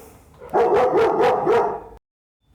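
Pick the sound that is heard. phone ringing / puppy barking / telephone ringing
puppy barking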